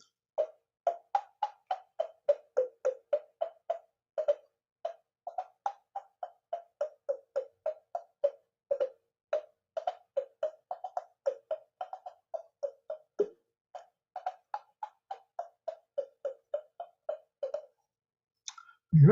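Beethoven's Ode to Joy tapped out on a number 2 pencil as a long run of crisp, dry, evenly spaced clicks with slight pitch changes forming the melody, played alone at close range.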